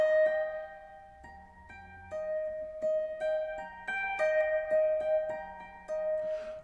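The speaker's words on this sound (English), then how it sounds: "I'm pressing down with my middle finger on my right hand to sound that note up there." Guitar passage where a high note is tapped with the right-hand middle finger, ringing clear and close among picked notes, with sustained tones and no talking.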